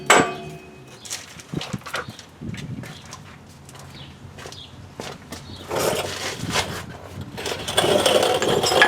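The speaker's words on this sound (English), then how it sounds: "I'm going to give it a tap with the end of my the handle of my hammer." Scattered sharp knocks and taps from a hammer handle on a 2008 Chevy Suburban rear axle, irregular and close, with some clattering and a rising mechanical hum toward the end.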